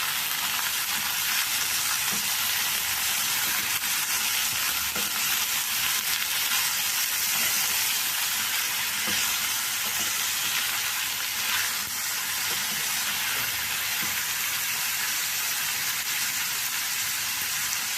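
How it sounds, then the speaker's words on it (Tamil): Drumstick and brinjal frying in hot oil for sambar give a constant, loud hissing sizzle, close up and steady from start to finish, with faint occasional stirring and no speech. "ஒரு முருங்கை கத்திரிக்காய் நல்லா எண்ணெயிலே வதங்கிட்டேன்"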